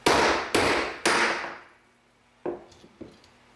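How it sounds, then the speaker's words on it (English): A metal disc cutter, lubricated, takes three loud, evenly spaced hammer blows that punch a centered washer out of sheet metal, each ringing off before two lighter taps follow. "place it into the hole, and hammer it out"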